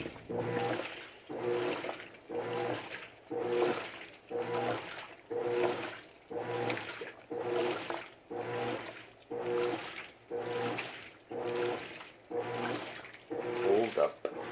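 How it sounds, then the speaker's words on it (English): A washing machine on a whites cycle sprays hot water through its detergent tray in steady rhythmic pulses, about one every second, a soft rushing hiss repeating evenly and heard up close. "it will do the spray jet and then straight hot water out of the detergent tray"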